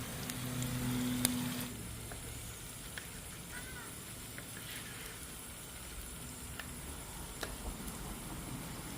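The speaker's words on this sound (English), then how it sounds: "So let's fry these up on the griddle." Crispy bean tacos frying on a griddle make a soft, continuous sizzle with faint crackles and occasional small pops, steady and fairly quiet under a low background hum.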